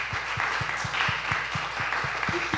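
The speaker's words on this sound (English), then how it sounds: "join me in another round of applause for Dr. Juliana." Applause from a panel-discussion audience at a film festival: steady rapid clapping from many hands, moderately loud and fairly close, with no speech over it.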